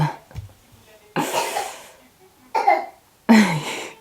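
A child gives a few harsh coughs in separate bursts with quiet breathing between them, close to the listener; the child has a cold.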